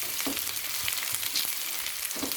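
Onions frying in a pan, a continuous close hiss and sizzle with scattered pops and light crackles, steady and moderately quiet with no voices.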